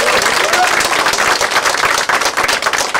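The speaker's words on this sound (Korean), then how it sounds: "여러분 큰 박수와 환호를 보내주시기 바랍니다." An audience at a political party's anniversary ceremony gives dense, steady applause for a few seconds, loud and close, with a brief dip partway through.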